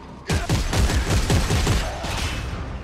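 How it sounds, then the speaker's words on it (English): Rapid burst of gunfire in close quarters inside a tunnel in Dead Space 3: a string of heavy, booming shotgun-like blasts about every quarter second, loud and dense, with a little speech faintly beneath. "I just shotgun him"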